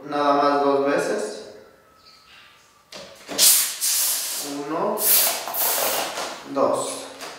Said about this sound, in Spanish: Ahora vamos a echarle aire a nuestra mitad de globo que tenemos dentro